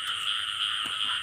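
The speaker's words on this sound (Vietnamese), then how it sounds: "Nhái quá kêu" Frogs croak in a dense, steady chorus on a rainy night during a frog-catching outing, a continuous, loud layer of calls with no voices over it.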